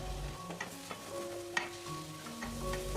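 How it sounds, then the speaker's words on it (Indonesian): Spice paste stirred and fried in a pan on the stove: a continuous soft sizzle with scraping strokes and a few sharp clinks of the utensil against the pan, close and quiet, with a faint tonal hum beneath. "nyalakan api kompor dan aduk-aduk bumbunya, masak bumbunya sampai bumbunya matang, wangi, terlihat mengeluarkan minyak"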